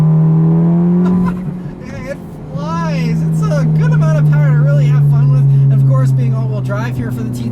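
A 2009 Audi TTS with an APR Stage 2 tune accelerates hard, its engine note rising steadily with a brief dip at a gear change before climbing again, loud and close, with a voice speaking over it.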